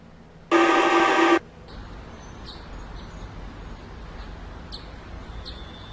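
Town ambience from Payday 2 with a brief loud tonal honk-like blast early on, followed by sparse faint bird chirps over a low steady background murmur.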